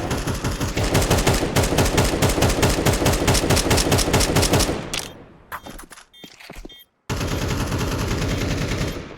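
Sustained rapid video game gunfire rattles for several seconds, then scattered sharp shots and a brief silence before more continuous firing resumes.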